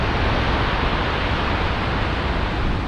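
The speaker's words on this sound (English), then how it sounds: "I do apologise for the waves, but they sound beautiful, don't they?" Sea waves break on a surf beach on the Holderness coast at Tunstall, Yorkshire, a loud, steady, broadband wash of surf with no clear individual breaks and no voices.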